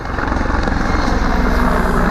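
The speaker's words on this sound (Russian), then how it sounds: "Автомобили с земли прикрывали 2 боевых вертолета" Two combat helicopters fly low over a military convoy, rotors thudding in a steady, loud, continuous drone with a heavy low rumble throughout.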